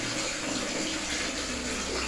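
Tap water runs steadily and loudly while dishes are rinsed, a continuous close splashing rush with no pauses.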